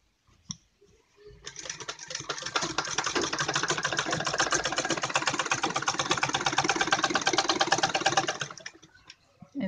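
A sewing machine stitches a kurti in one continuous run of rapid needle clatter lasting about seven seconds, close and steady, starting and stopping with brief quiet on either side.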